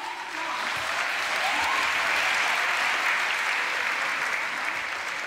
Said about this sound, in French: Je voudrais qu'on applaudisse nos invités.